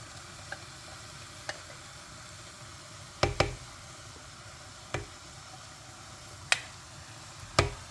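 A spoon stirs ground coconut paste into boiled beetroot for beetroot pachadi, giving a handful of sharp, sparse clinks against the pot over a faint, soft simmering hiss, with the loudest knocks spaced unevenly a second or more apart.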